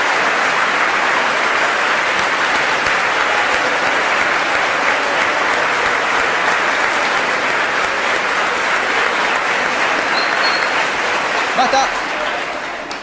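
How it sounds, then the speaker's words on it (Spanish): An audience at a public-speaking lesson claps at length, a long unbroken roar of applause that holds steady and loud before trailing off near the end. "por favor, empecemos a aplaudir."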